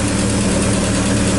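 A Chevrolet Opala engine runs steadily just after starting, a loud, close, continuous rough idle with a deep throb and no pauses or talk.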